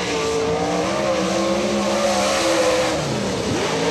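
Race car number 22 on a qualifying lap at Atomic Speedway, its engine roaring loud and sustained at high revs, with the pitch sweeping down near the end as it passes close by.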